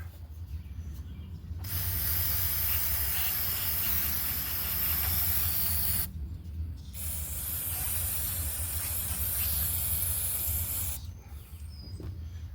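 An aerosol can of Barrowman spray sprays in three long hissing bursts, close and fairly loud, separated by short pauses, while working on a Craftsman 27 cc string trimmer.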